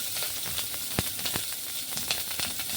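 Chopped onion sizzling in hot oil with fried garlic and chillies while cooking a leafy vegetable dish, a steady close frying hiss with small crackles and pops throughout.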